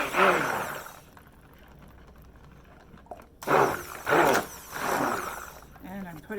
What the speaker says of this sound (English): I'm gonna go ahead and give this a quick stir with the stick blender.